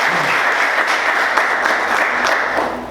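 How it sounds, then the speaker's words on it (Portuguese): A church congregation applauding, loud sustained clapping from a crowd that fills the whole stretch evenly and holds its strength throughout. "Quantos podem aplaudir Jesus?"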